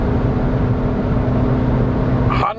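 Small Suzuki Ignis 1.2 engine held at full throttle in fifth gear at high motorway speed, a loud steady drone with road and wind roar that cuts off abruptly near the end.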